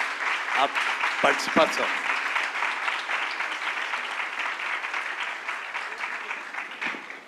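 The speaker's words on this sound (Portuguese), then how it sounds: "eu peço uma salva de palmas para ela" An audience applauds Patrícia at a communication and letters academic gathering, a steady, even wash of clapping that holds throughout, with a speaker's voice briefly audible over it near the start.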